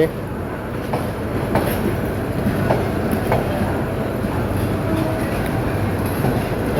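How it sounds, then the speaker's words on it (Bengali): A passenger train rolls into platform 6 at Kamalapur railway station, giving a continuous low rumble with scattered clicks and clacks from the wheels as it moves past. "যে কমলাপুর রেল স্টেশনে প্রবেশ করলো ট্রেনটি।"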